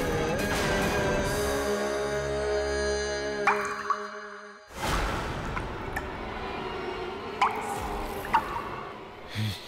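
Water drips repeatedly in a quiet, echoing space, with sharp irregular drops over a low, steady background hum and no voices.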